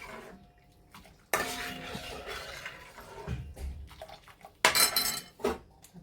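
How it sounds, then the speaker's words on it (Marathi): A spoon stirs horse gram soup in a pot, with scraping and clinks against the metal coming in uneven bursts. Two louder stretches of stirring stand out between quieter pauses, with no speech. "आता थोडं थोडं आपण याच्यामध्ये घालायचं आणि असं हलवत राहायचं, म्हणजे गुठळ्या तयार नाही होती."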